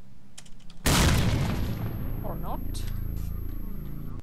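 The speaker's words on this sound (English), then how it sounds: "I think I can get on top of this one with a grenade jump." A grenade blast from a grenade jump in a video game bursts loudly and abruptly, then leaves a long rumbling tail of debris and low roar that slowly fades.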